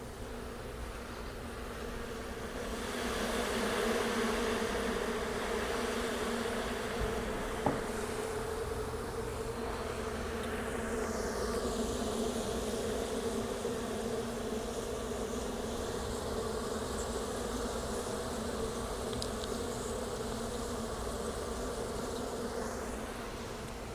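Bees buzzing steadily around a hive, a dense close drone that swells in after a few seconds and holds with a constant low hum, with occasional passes of individual insects near the microphone.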